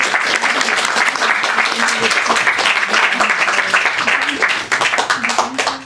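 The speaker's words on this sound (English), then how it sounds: "Let's give the poets another round of applause for a terrific reading." Sustained applause from an audience at a poetry reading, steady clapping filling the space for several seconds, with a few voices faintly mixed in beneath it.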